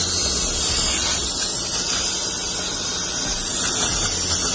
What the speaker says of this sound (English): spraying a bunch of brake cleaner all along the sides of the throttle body